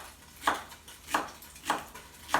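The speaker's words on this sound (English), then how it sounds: "I've got 3 small stalks of celery that I'm dicing in here" Knife dicing three small celery stalks on a cutting board, four crisp evenly spaced chops about two-thirds of a second apart, close and clear over quiet kitchen background.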